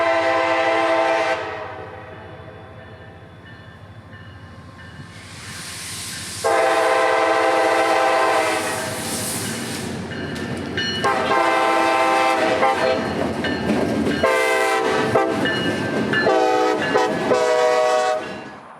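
A CSX freight train on the Brooksville Subdivision crosses US 41 diagonally in Lutz, sounding repeated loud horn blasts close by over the rumble and clatter of passing cars.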